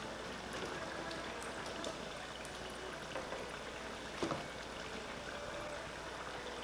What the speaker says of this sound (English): Just kind of pick them up and let them drip a bit before you put them in the paper towel